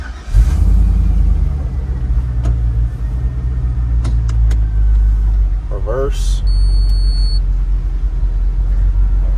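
A 1965 Ford F100 pickup fitted with an LS engine and a Crown Vic frame cranks and fires, then settles into a loud, steady rumbling idle up close, with a short electronic beep partway through and someone speaking briefly.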